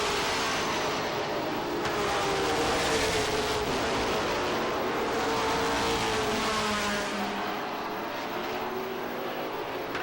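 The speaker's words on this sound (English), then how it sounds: "Gravel up on the outside of Tom Quinney as they head down the backstretch." Pro stock race cars roar down the backstretch of Lee USA Speedway during a 100-lap feature in 1993, a loud continuous engine drone heard from a distance with no talk over it.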